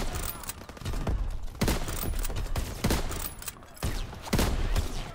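A light machine gun in a shooter video game fires in rapid bursts of loud, sharp, close reports separated by short pauses.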